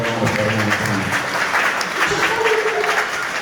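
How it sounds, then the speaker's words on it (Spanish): A church congregation claps together during a Q'anjob'al-language sermon, a dense, loud and even burst of applause filling the room with voices mixed in. "aplauso hermano"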